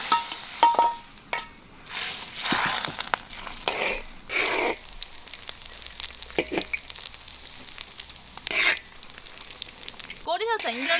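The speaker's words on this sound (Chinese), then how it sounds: "先熬点牛油。" Beef tallow renders in a pot, giving a close, crackling sizzle with occasional clinks of a utensil against the pot, heard under intermittent talking.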